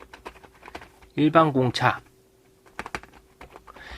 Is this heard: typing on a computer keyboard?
yes